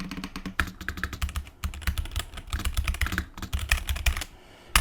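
Steady, fast typing on an ASUS ROG Azoth mechanical keyboard, dense clacky keystrokes close up with a deep, muted thock, running continuously without any voices.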